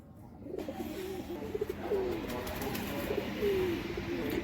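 Pigeons in a coop coo softly in low, repeated throaty calls against a steady background hum, fairly close.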